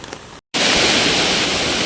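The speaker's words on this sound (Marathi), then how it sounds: "एवढा फोर्सने पाणी चाललंय बघा" A flooded village river swollen by all-day heavy rain rushes with force, a loud, dense, unbroken roar of water that cuts out briefly near the start and then returns steady.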